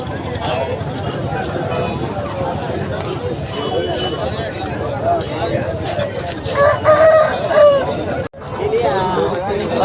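A rooster crowing at the Rayachoti livestock market in Kadapa district, with grey roosters for sale nearby, heard among cluck-like calls over a dense background of crowd chatter and market bustle.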